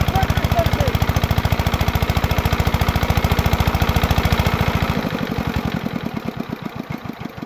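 A water lifting pump machine's engine starts and runs with a fast, heavy, rhythmic thumping that stays loud and close, then drops to a slower, looser chug near the end. A voice is briefly heard.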